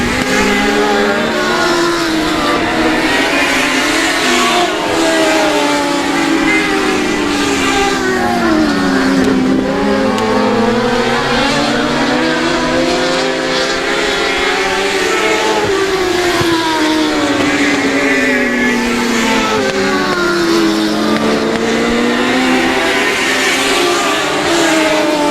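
Race cars at the South Texas Nationals qualifying night: a continuous loud engine roar that rises and falls as the cars accelerate and pass through the laps, with no talk.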